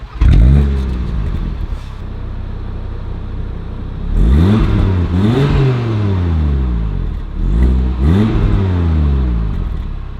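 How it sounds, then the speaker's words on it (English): A 2022 Audi RS3 8Y Sportback engine fires up in dynamic mode, then revs loudly and close in three sharp blips around the middle and end of the run, settling into a steady idle between them. "Let me give you a quick startup in dynamic mode"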